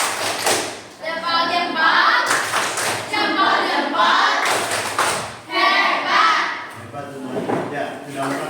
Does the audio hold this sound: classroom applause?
yes